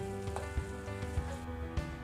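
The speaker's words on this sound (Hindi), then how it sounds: "अब इसमें हम आधा चम्मच लहसुन और अदरक का पेस्ट डाल देंगे। इसको भी हम थोड़ा भून लेते हैं।" Garlic and ginger paste frying gently in a pan over a low flame, a soft, steady sizzle with a few faint knocks of a spoon at regular intervals.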